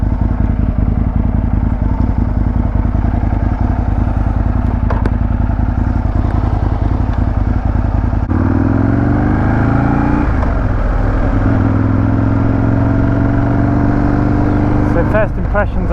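An Aprilia RSVR Factory sports bike ridden on a sunny, chilly day, its engine loud and near, chugging steadily before revving up through rising and falling pitch sweeps as it accelerates.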